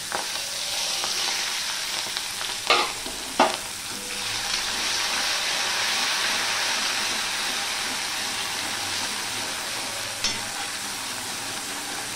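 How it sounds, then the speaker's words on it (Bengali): Ginger and green chillies frying in hot oil on a gas flame over reduced heat make a steady, close sizzle, with a few sharper crackles and stirring knocks in the pan. "দেখো আদাটা ফোড়ন হয়ে গেছে।"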